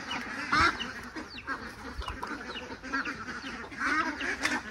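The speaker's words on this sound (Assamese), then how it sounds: "এই ডাঙৰ হাঁহখিনিক এইফালে চাওক তামোলৰ পুলিৰ মাজত ৰাখে" A flock of around two hundred ducks on a duck farm, kept among areca palm seedlings, keeps up a busy, overlapping chorus of honking quacks close by.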